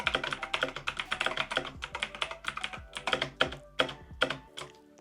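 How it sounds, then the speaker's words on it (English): Rapid typing on a full-size Razer Pokémon-edition keyboard, a steady run of crisp, close key clacks with heavier thumps now and then, alone without talk. "So when I'm typing, I don't feel like I have to be too heavy on my hands."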